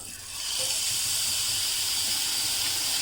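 Gram flour batter drips into hot oil to fry boondi, giving a strong, continuous close-up hiss and sizzle that swells within the first half second and holds steady, with talk faintly underneath.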